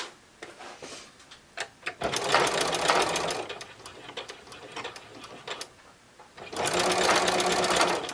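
A sewing machine stitches in two bursts of rapid, even mechanical chatter, close and loud, separated by quieter moments with light handling clicks.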